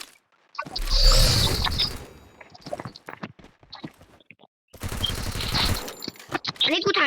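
Bursts of rapid M500 gunfire in the Free Fire mobile shooter game, a loud dense volley near the start followed by scattered sharp shots and clicks, with a second sustained burst of fire later in the clip.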